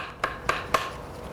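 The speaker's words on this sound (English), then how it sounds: "I'm using a smaller hammer face and pushing back" Three evenly spaced, sharp metallic taps from a small hammer face pushing back a formed metal shell to define its lines, close and fairly quiet with no talk.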